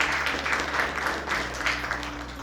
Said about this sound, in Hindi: जोरदार ताली इनके।